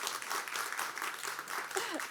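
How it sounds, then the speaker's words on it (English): Applause at a summit networking event, a continuous crowd of clapping hands at moderate level with some faint voices mixed in. "Big hand of applause."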